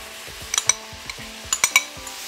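Pumpkin sizzling in a pan with thyme, garlic and star anise for a pumpkin chutney, a soft sizzle under sharp metallic clinks and scrapes of a utensil against the pan, close and intermittent, without talk.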